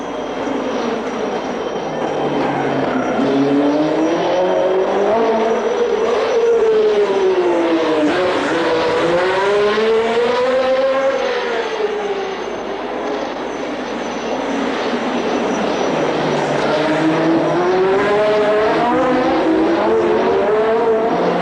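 1969 Monaco Grand Prix race cars roar past on the street circuit one after another, loud engine notes rising and falling as each car accelerates and brakes, with a continuous layered din and no voices.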